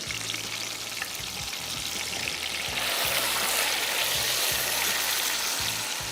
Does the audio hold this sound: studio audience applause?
no